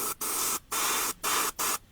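An airbrush loaded with a few drops of pearl red paint for a 1/10 RC body shell hisses in four steady bursts of close, loud spray, each lasting about a third of a second with short silent gaps between.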